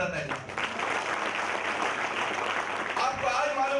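An audience claps for a company at a gathering, sustained applause mixed with someone talking loudly over it.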